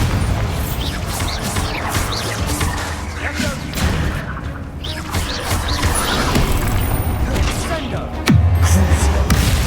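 Bombarda blasting spell in a Harry Potter video game: a continuous clamor of thuds, crashes and rumbling impacts, ending in one heavy low boom near the close, with voices mixed into the din.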